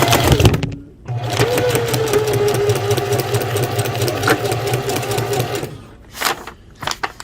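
A sewing machine stitches steadily, running a backstitch forward past its start and back again, loud and close with a brief pause near the start and a few short bursts at the end.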